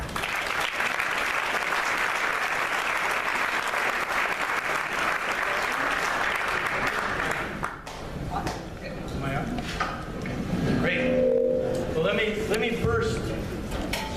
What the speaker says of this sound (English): please, applause to Mr. Trujillo